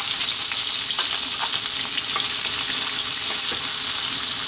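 Thinly sliced ginger and chopped garlic fry in hot oil for a Napa cabbage dish, giving a steady, dense sizzle with occasional crackles and pops throughout, close and fairly loud with no talking.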